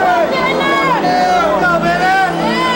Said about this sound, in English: We're at the Arco Arena in Sacramento. Big crowd on hand.